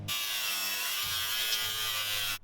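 Close by, a power tool gives a steady high-pitched whine, buzzing and grinding without a break for a couple of seconds as it cuts a teardrop-shaped metal fender piece, then it stops abruptly.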